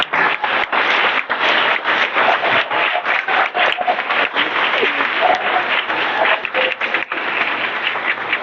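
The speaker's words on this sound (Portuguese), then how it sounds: "Recebeu uma salva de palmas." Dense, steady applause from a church congregation at a youth music event, a continuous wash of many clapping hands lasting throughout without pause.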